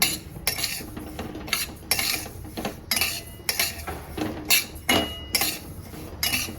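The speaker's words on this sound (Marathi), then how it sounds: "तो मोठा जाड रवा आहे तो गव्हाचा तर ते मी भाजून घेणार आहे मस्त खमंग भाजायचं जरा" Coarse wheat semolina dry-roasted in a pan for wheat porridge, heard as repeated scraping and metallic clinks of a spoon against the pan in a steady stirring rhythm, close and fairly loud, no talking.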